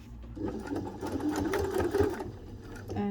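A sewing machine stitches a messenger satchel bag, a close, steady mechanical whirr with a rapid rhythmic needle chatter that runs for about three seconds at moderate volume.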